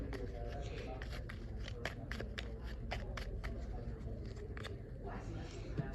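Playing cards for the Enchanted Forest board game being shuffled by hand, a run of quick riffling bursts and soft flicks over steady close room noise, with a voice talking in the background.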